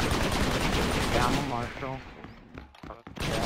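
Rapid gunshots in the video game Red Dead Redemption during an Armadillo grab-the-bag match, dense and loud at first, then thinning to a few sharp shots, with voices talking over the firing.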